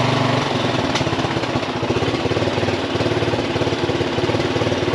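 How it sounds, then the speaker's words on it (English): A Yamaha XT350 motorcycle engine idles steadily after a coil change, a loud, close single-cylinder putter with an even, rapid pulse and a faint mechanical tick running through it. "It actually caught its own idle."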